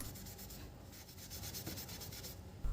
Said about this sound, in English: slightly smooth them out with some steel wool again, just trying to darken the area a little bit